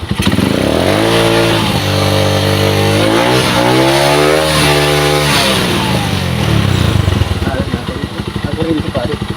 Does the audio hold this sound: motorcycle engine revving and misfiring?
yes